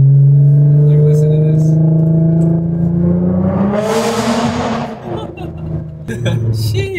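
Lowered Nissan GTR engine revving hard while driving, a loud rising roar that climbs in pitch and then drops off, with a voice talking over it near the end.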